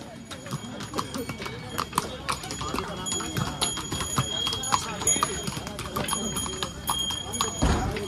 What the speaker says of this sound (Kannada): ಕುದುರೆ ಐತಿ.